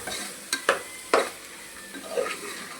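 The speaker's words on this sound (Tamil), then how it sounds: "பச்சை பட்டாணி, நல்லா கிண்டிடுவோம்." Green peas and potato being stirred into spicy masala in a pan for veg biryani, a low sizzle punctuated by three or four sharp spoon scrapes, then softer stirring, close and alone.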